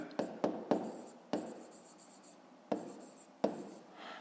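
A pen moves across paper in a fifth-grade maths exercise, a soft scratching punctuated by sharp taps as strokes start, several quick marks then scattered pauses, close and quiet.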